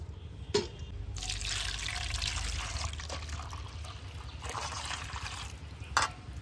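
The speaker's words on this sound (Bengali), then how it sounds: "আবারও আমি 1 মগ জল দিয়ে দেব।" A mug of water is poured out in a steady splashing stream lasting several seconds, with a couple of sharp knocks near the start and end, recorded close by.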